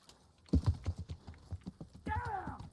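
Horse hooves trotting in the video game Kingdom Come: Deliverance, a steady run of clip-clop beats up close, with a whinny-like tonal cry near the end.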